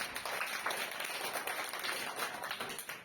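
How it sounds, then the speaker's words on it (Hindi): A school audience applauding a Class 9 student speaker at a curriculum activity, faint and fairly distant, a dense even patter of many hands for a few seconds. "इनके लिए जोरदार तालियां"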